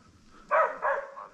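Hunting dog barking during a wild boar hunt, two short barks about a quarter second apart, moderately loud and slightly distant, over quiet outdoor background.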